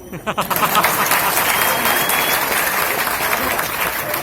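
An audience claps together at an indoor gathering, a dense, steady round of applause that starts abruptly after a brief quiet moment and holds at full strength to the end.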